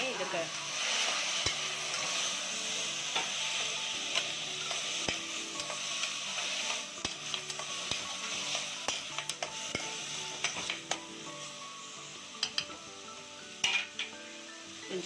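Tomatoes sizzle steadily in a hot pan for tomato bhaji, with a spatula scraping and clinking against the metal at irregular intervals under the constant frying hiss.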